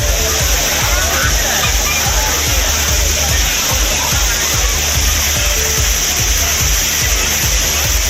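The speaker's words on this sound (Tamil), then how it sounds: "மேற்கு தொடர்ச்சி மலைப்பகுதிகளில் பெய்த மழையின் காரணமாக குற்றாலம் மெயினருவி, ஐந்தருவி, புரியருவி, சிற்றருவி என அனைத்து அருவிகளிலும் தண்ணீர் ஆர்ப்பரித்து கொட்டியது" Water roars down the falls at Courtallam in the Western Ghats after heavy rain, a loud, dense, unbroken rush with splashing that fills the whole stretch, heard close up with no clear talking.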